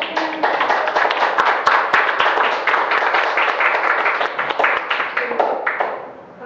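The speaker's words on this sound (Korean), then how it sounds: "큰 박수로" Enthusiastic clapping from a lecture audience welcoming a guest speaker fills the room, steady and dense for several seconds before tapering off at the end.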